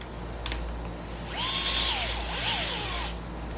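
A power drill drives hardware into a buggy frame cap, whirring up in two short bursts with pitch rising and falling as the screw seats, close and clear in a quiet shop.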